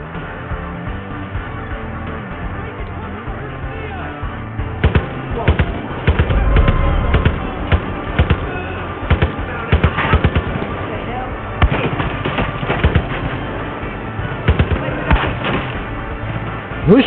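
Gunfire in the video game Far Cry 5: repeated sharp cracks and thuds, bursts of shots clustered after the first few seconds over a busy game soundscape, with a player talking throughout.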